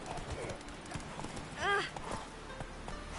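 Horse hooves clip-clopping in the video game The Witcher 3, a steady trotting rhythm with a short whinny in the middle, set against faint game ambience.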